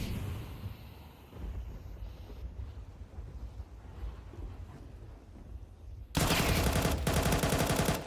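Gunfire in a competitive Counter-Strike match: muffled rapid shots and ambient game noise, then a sudden loud burst of bright, sustained firing near the end.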